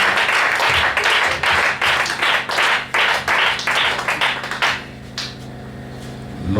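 A church congregation claps in acclamation, striking loud, rhythmic, closely spaced hand claps for about five seconds before stopping, leaving a low lingering hum.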